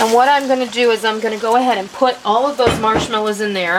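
Melted butter sizzles in a pan on a stove over medium heat, a soft frying crackle running steadily beneath continuous close-up talk.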